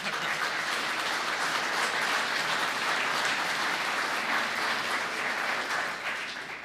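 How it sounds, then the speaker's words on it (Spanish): An audience at a Spanish-language book presentation applauds for Admiral Luis de Córdoba, a dense, steady round of clapping that continues for several seconds before starting to taper. "Un aplauso para el almirante Luis de Córdoba."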